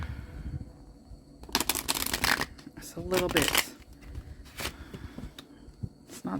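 A deck of tarot cards being shuffled in short, crisp riffling bursts separated by pauses, close and clear, with a voice speaking briefly between the shuffles.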